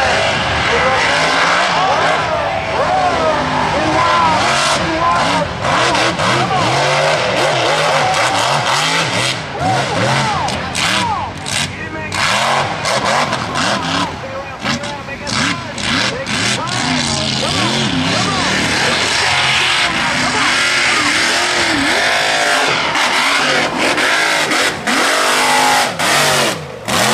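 Mega truck engine racing in an unlimited class race, loud and revving continuously throughout with roaring surges, while excited voices talk over it.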